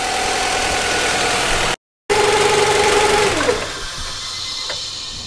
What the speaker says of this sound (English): he's just pressing the gas ever so slightly just to get the idles up